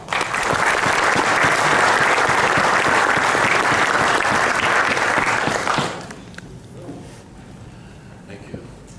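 A conference audience applauds warmly to welcome a speaker to the stage, dense steady clapping that fills the room for about six seconds before dying away into quiet room noise.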